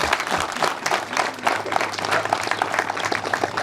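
Audience applause at a Seventh-day Adventist church foundation-stone ceremony, steady dense clapping from a large crowd filling the space throughout, with no talk over it.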